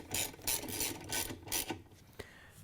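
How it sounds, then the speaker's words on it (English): A ratchet clicks in quick repeated strokes as it tightens the agitator bolt on a Whirlpool, KitchenAid or Maytag washer, close and loud, trailing off into a few lighter clicks. "Once you have it down all the way, you can tighten down the agitator bolt."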